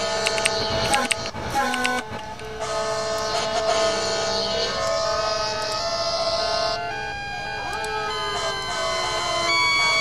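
Manual cue sirens wail at a Christmas parade with fire engines, several overlapping mechanical siren tones rising and falling loudly, mixed with bursts of crowd noise and faint background voices.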